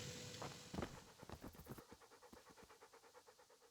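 A dog pants in the medieval world of Kingdom Come: Deliverance, with quick, rhythmic breaths close by that begin louder and gradually fade, heard alone with no talking.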